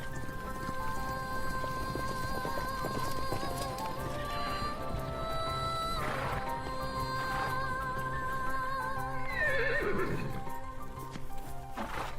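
Mongolian horses on open Inner Mongolian grassland give a few wavering whinnies over a steady background of soft pattering and clopping, heard at moderate distance.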